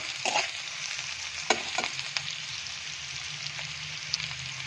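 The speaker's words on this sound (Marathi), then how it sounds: "कांदा हा चांगला लालसर होईपर्यंत भाजून घ्यायचा" Chopped onion and curry leaves fry in a pan, a steady close sizzle with occasional sharp crackles and pops from stirring.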